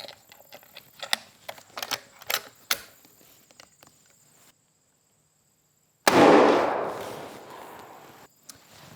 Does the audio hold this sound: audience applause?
no